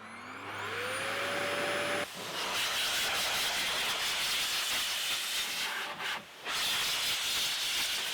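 A Blow Air RS car dryer blasts air to dry a car, a loud steady rushing hiss that holds almost without pause, briefly dipping near the end before resuming at full strength; a rising tonal whine opens it as the motor spins up.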